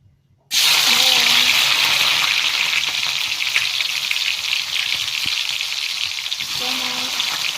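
Shrimp sizzling and frying in hot oil in a home kitchen, a loud, steady crackling hiss that starts abruptly and continues throughout, close up with no talk.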